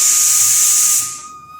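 A pressure cooker of lentils vents a loud, steady whistle of steam for over a second, then the hiss tapers off quickly.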